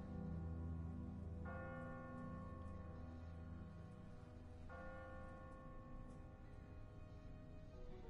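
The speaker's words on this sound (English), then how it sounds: "Ask not for whom the bell tolls." A church bell in The Walking Dead video game tolls twice from a bell tower, each ringing strike followed by a long lingering hum over a low steady background, with no voices.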